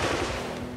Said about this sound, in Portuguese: E voltam os tiros.